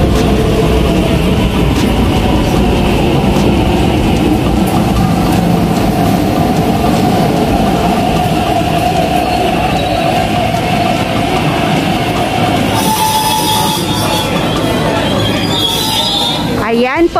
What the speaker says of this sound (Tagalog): Ganyan po ang tren ng Hong Kong. Yan po yung tinatawag nilang KCR.